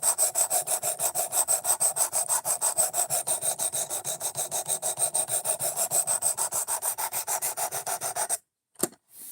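An Ozark Trail axis lock knife blade is drawn across a sharpening stone in a fast, even rhythm of rasping strokes, close and alone, before stopping with a couple of final scrapes.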